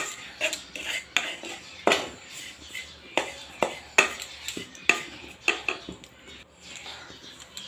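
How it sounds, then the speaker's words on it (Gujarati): A spoon stirs grated coconut roasting in a pan over low heat, giving repeated scraping strokes and clinks against the metal at an uneven, steady rhythm, close and fairly clear. "ધીમા તાપે આપણે ટોપરાને શેકવાનું છે।"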